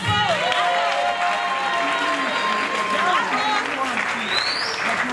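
Audience at a live stage show in a St James performance hall applauding for the artists, steady dense clapping throughout with crowd noise and overlapping voices and music tones mixed in.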